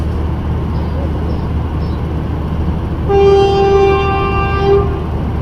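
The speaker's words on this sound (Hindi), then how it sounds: "ये जी 6 डाउन गीलान एक्सप्रेस भी।" A train horn gives a steady, loud tonal blast lasting about two seconds over constant rumbling station ambience as the 6 Down Gilan Express comes through Rawalpindi railway station. Faint talk can be heard in the background.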